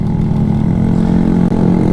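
A small bike's Lifan engine runs steadily at close range, giving a continuous, even low hum and drone with a slight dip near the end and no talking.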